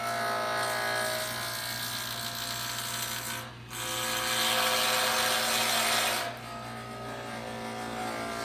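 Wood lathe spinning a pen blank at around 3,500 rpm, a steady loud motor whine with a constant hum that briefly dips and then resumes.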